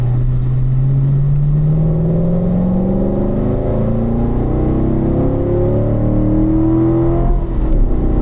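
A Corvette accelerating on a race track at a racing school: the engine note climbs steadily through the revs as a continuous loud drone, with rising tones and no voices over it.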